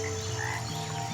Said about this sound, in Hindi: एक मेंढक वहाँ पत्थर पर आकर बैठ जाता है